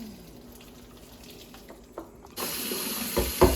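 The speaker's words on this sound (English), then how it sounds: "So now I'm gonna catch some more fresh water" A kitchen tap suddenly opens and runs, filling a pot with fresh water while cooking Jamaican ackee and saltfish; a steady, close splashing gush follows quiet background clatter.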